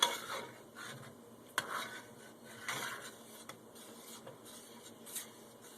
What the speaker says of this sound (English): Now, this is just a matter of stirring.